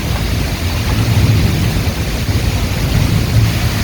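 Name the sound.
hail storm with thunder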